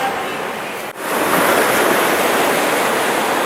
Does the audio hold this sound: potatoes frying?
no